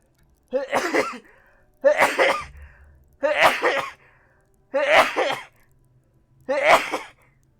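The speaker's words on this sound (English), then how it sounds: "That was like 5 double sneezes." Five loud sneezes in a row, each a sharp burst with a brief pause between, close up with no talking.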